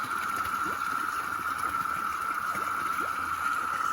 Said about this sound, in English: get away from the water noise